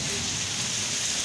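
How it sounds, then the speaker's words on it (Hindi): Steady, dense hiss of heavy rain pouring down, a constant close wash of sound with no breaks. "इतनी तेज़ बारिश हो रही है"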